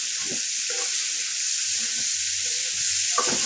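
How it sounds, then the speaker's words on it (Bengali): Dried phera shutki fish frying in oil in a pan gives a steady, close hiss of sizzling, with soft scrapes and knocks of stirring scattered throughout and no talk. "এটা আমি একটু তেলে ভেজে নিব, তারপর আমি মশলা দেবো"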